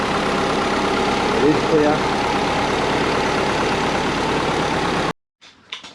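A built Subaru Forester with an EJ20 engine runs with a steady, even idle rumble up close, then shuts off abruptly near the end, followed by a brief spoken remark.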